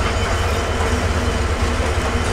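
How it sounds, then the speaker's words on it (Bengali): The Nilsagar Express, a Chinese-built rake hauled by an American locomotive, passes close by with a loud, dense rolling rumble and rattle of wheels that holds steady for a couple of seconds. "আর এই নীলসাগর এক্সপ্রেস কিন্তু বন্ধুরা রিসেন্টলি চাইনিজ রেক পেয়েছে, এটা হচ্ছে চাইনিজ রেক আর হচ্ছে সাথে আমেরিকান লোকোমোটিভ"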